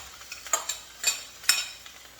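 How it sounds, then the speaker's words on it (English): A mixture is stirred in a skillet, with three soft scraping strokes about half a second apart over a faint background. No one talks. "So we're just stirring this up."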